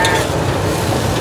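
Food frying and being stirred in a pan at a Vietnamese street stall selling fried rice-flour cake, a steady close sizzle with scraping stir strokes throughout, no talking.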